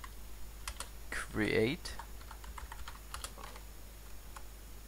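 Computer keyboard typing while entering Minecraft Bukkit server commands: a few sparse, close key clicks spread across the moment, with a brief spoken word in the middle.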